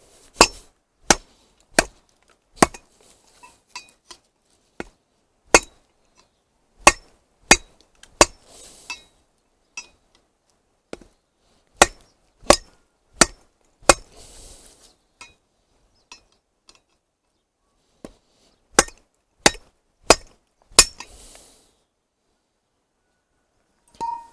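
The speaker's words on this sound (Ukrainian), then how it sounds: "ножем можна, в принципі, рубати метал, якщо це необхідно, і він має витримувати такі навантаження" A Viking-style knife of 65G steel chops into metal in sharp, ringing strikes, about two dozen of them, spaced in quick clusters of three or four with quiet gaps between groups, loud and close with no talking.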